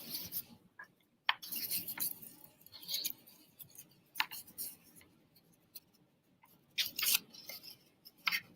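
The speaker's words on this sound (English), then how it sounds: "we're going to cut one petal out of this one" Scissors cutting a petal from folded book paper: a series of small, close snips and paper rustles, spaced irregularly with short quiet gaps between them.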